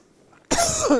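A single loud, harsh cough bursts out close by after a quiet moment, rough and breathy, with no talking around it.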